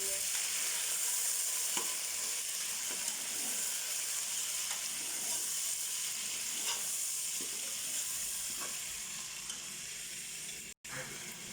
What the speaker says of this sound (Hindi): पहले हम अच्छी तरह गोश्त को फ्राई कर लेंगे।